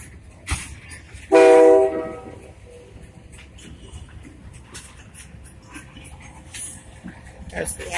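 A locomotive hauling grain hopper cars rumbles past at a grain hopper yard with clattering wheels and a loud horn blast early on, while people talk nearby.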